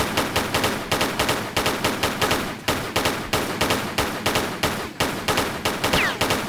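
Rapid bursts of gunfire from Tomb Raider 3 Remastered as raptors in a jungle are shot, with loud, closely spaced shots repeating steadily and without pause across the whole stretch.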